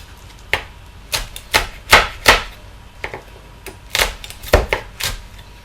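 A knife chops chilies on a cutting board with a blade that needs sharpening, about a dozen crisp irregular thuds close by, some in quick pairs, with quiet gaps between.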